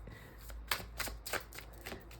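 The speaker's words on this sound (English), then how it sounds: "I love shuffling these cards" A deck of tarot cards being shuffled close up gives a few quiet riffling, slapping bursts spaced irregularly, soft and alone with no talk.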